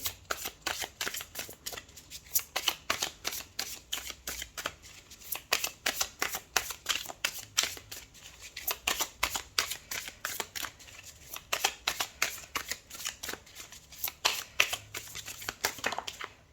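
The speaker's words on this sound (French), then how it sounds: "On va tirer 3 cartes du tarot doré." Golden tarot cards being shuffled and drawn, a dense run of quick papery riffles and flicks repeating steadily throughout, close and fairly soft, with no voices.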